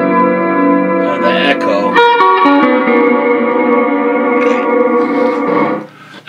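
An Albion AG-series hybrid guitar amp with its echo effect turned up rings out sustained, heavily reverberant guitar chords, loud and dense, with repeats smearing together before the sound cuts off near the end.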